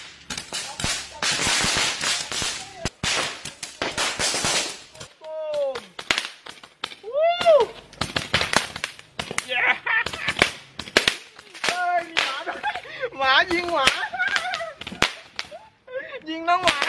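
Firecrackers set off from a PVC pipe crackle in fast, dense strings at first, then give way to scattered sharp single bangs, with voices and cries mixed in throughout.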